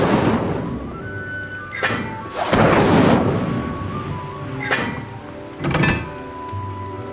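In the Hogwarts Legacy video game an Incendio fire spell is cast, with several heavy whooshing bursts of flame and booming impacts recurring at irregular intervals over a low rumbling backdrop.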